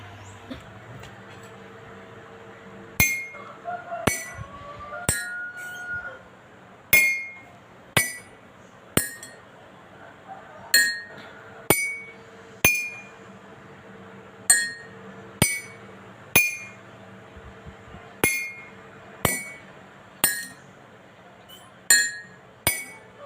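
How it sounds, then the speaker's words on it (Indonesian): A water-filled glass is struck again and again with a spoon, giving about fifteen bright, ringing clinks. Each one decays quickly, and they come at a steady, fairly regular pace after a quiet start. "gelas kaca yang berisi air dipukul menggunakan sendok"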